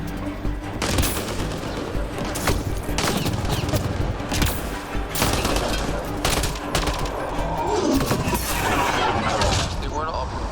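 Sustained gunfire from a firefight against pirates in the Mass Effect Andromeda video game: dense bursts of rapid shots and sharp cracks, loud and continuous, with voices talking over the battle.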